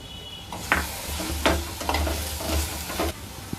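Raw prawns fry in a clay mud pot for a prawn and drumstick curry, a close sizzle broken by several clattering stirs and scrapes.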